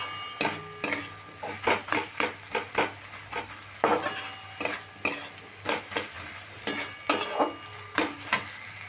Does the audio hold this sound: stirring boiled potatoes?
yes